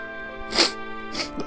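A character in the visual novel Sweet Fuse: At Your Side sneezes once clearly, then a smaller second burst follows, both close over a soft, steady game music bed.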